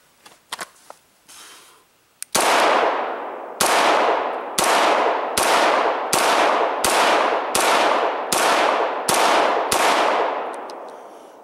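Beretta 92 FS Inox pistol fired in ten loud, sharp shots at a steady pace about two-thirds of a second apart, each with a short ringing decay, preceded by faint handling clicks.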